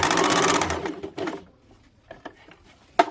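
Sewing machine stitching a V-shaped dart on a kurti, a brief rapid run of stitching that stops abruptly, followed by a few faint clicks and taps of handling.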